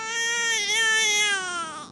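A baby cries loudly from thirst, one sustained wailing cry that swells and wavers for about two seconds, close and clear with no other sound.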